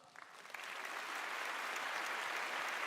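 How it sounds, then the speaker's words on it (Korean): Audience applause at a Rotary foundation speech in a hall, swelling from scattered claps into dense, sustained clapping that fills the room, with no talking over it. "한국문화장학재단이당 최우 이사님께 큰 박수 한번 다시 보내주시 부탁드리겠습니다"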